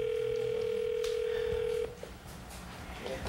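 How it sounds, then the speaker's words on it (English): A telephone on a long distance call gives a steady electronic tone that runs for nearly two seconds and then cuts off, with faint room noise after. "press that and wait for this phone to be picked up"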